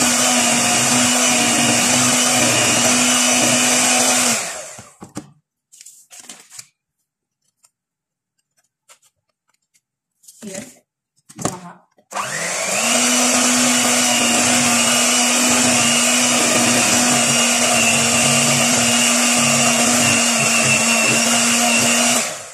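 An electric mixer whirs loudly and steadily while beating date cake batter, stopping for several seconds with a few brief bursts, then running again at full, constant speed.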